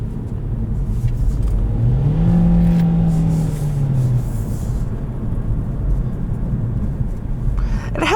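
A 2021 Kia Forte EX accelerates from inside the cabin, its engine note rising as it revs, then settling into a steady road rumble, loud and close, with no talking.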